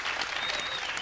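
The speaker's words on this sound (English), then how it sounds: "Give him a round of applause." Studio audience applause on a game show, a brief dense burst of clapping, fairly soft and continuous with no break.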